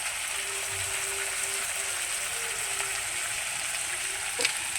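Chopped tomato and spices frying in a pan for a vegetarian potato curry, a steady close sizzle with faint stirring scrapes and no talking.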